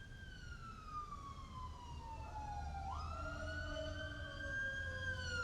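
Emergency vehicle sirens passing an apartment, a wailing tone that sweeps down then jumps up, heard at a moderate distance over steady low traffic rumble, with no talking.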